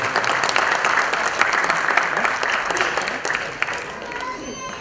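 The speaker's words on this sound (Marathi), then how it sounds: "जरा या त्रिवेणी संगमासाठी जोरदार टाळ्यांचा कडकडाट" Dense, sustained applause from an audience at a felicitation ceremony, many hands clapping steadily and loudly for the whole stretch, with some voices mixed into the crowd noise.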